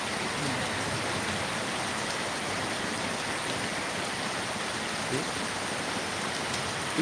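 Strong water gushing from borewells, a steady dense rush of flowing water that stays loud and even throughout, with no break or rhythm.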